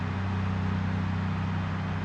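A car reverses in the zombie survival video game The Last One, a steady, loud, low engine drone that holds evenly with no breaks.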